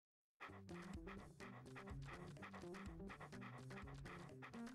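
In the video game The Dog Island, a dog pants in quick, rhythmic breaths that repeat steadily, close and clear, starting abruptly after a brief silence.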